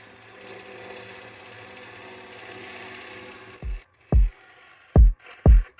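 Black walnut wood carved with a gouge that may be dull on one side: a steady, close rasping scrape for several seconds, then four sharp, separate knocks at a quiet pace.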